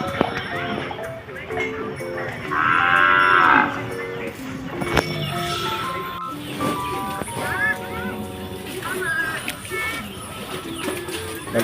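Cattle lowing loudly and repeatedly at feeding time on a small fattening farm, given a mash of cassava, bran and pellets, the moos close and drawn out over steady background noise and talk.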